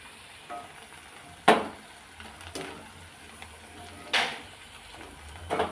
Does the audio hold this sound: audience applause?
no